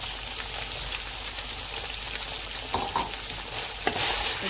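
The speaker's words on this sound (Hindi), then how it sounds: "तकरीबन 1 मिनट तक और भून लेंगे।" Mutton coated in ground masala fries and is stirred in a pot, a close crackling sizzle with scattered spoon scrapes and clicks and a brief louder burst near the end, no talking.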